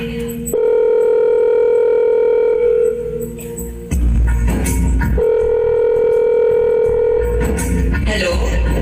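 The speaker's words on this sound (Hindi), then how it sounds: "अभी फोन करके पूछती हूँ कि ठीक ठाक घर पहुँच गया।" A mother phones her son, with steady dial-tone-like tones and keypad-style beeps running through the call setup, interrupted by a short pause and then more tones mixed with background noise from a school annual function stage.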